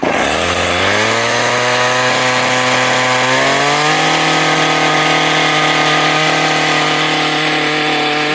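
A Craftsman weed eater's small two-stroke engine runs loud and close, revving up in pitch over the first few seconds and then holding a steady high buzzing drone.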